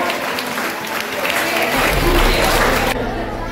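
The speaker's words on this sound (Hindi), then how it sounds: "मर्दों की बराबर तालियां बजाओ" School students applaud at a sports week event, loud continuous clapping from a large group with crowd noise and voices mixed through it, cutting off abruptly near the end.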